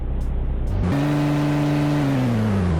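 A Polonez car engine in a Roblox driving game revs up from a low idle into a steady, loud, rising drone, then slowly drops in pitch toward the end.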